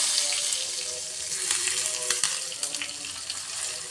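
Cumin seeds and curry leaves sizzle in hot oil for a dahi tadka, with steady close crackling and spitting plus sharp pops over the whole stretch and no talk.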